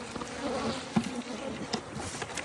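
Bees buzz faintly around flowering fruit trees outdoors, a steady low hum with brief louder passes of individual insects close by.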